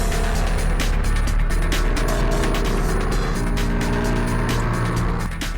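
Maxi scooters, a Yamaha T-Max, Aprilia SRV 850 and BMW C600 Sport, accelerating together on a track, a loud, dense engine roar with wind noise that stays steady throughout.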